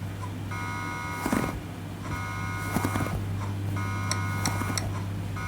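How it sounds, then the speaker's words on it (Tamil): An electronic alarm in a Roblox break-in game rings in repeated bursts about every second and a half over a steady low hum. "என்ன அலாரம் சத்தம் அடிக்குது?"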